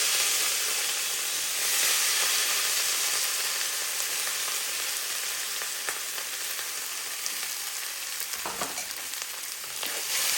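Cooked rice is stirred in a hot pan for lemon rice, a steady sizzle and hiss with soft scraping as the rice is turned, and a sharper scrape near the end.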